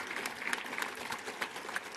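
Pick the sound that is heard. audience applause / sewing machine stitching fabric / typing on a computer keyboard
audience applause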